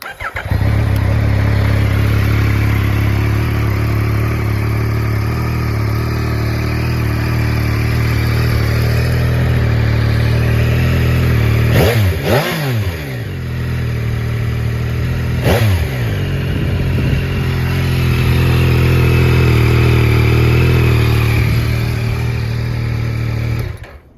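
A 2022 Yamaha XSR900 motorcycle, stock from the factory, idles loudly and steadily up close with a deep, even engine drone, broken by a couple of sharp throttle blips partway through.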